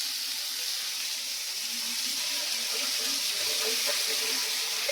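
Tap water runs steadily into a sink while eggplant and pumpkin are washed in a Bengali home kitchen, a continuous close hiss with faint splashes.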